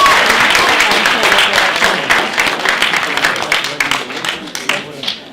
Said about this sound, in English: Round of applause for Tabiso.